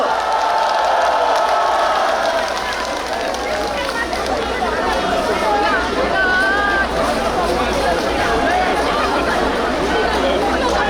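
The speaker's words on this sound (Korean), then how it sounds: "큰 박수와 함성 부탁드리겠습니다" A large crowd at an outdoor campaign rally for a presidential candidate in Suncheon claps and cheers continuously, a dense wash of applause and shouts close by, with an amplified voice over it.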